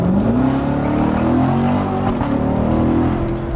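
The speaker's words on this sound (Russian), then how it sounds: "у нее нереальный выхлоп" A Chevrolet Corvette C7 Grand Sport accelerates while driving, its V8 exhaust rising in a smooth, loud pitch sweep with a deep rumbling undertone, close and alone.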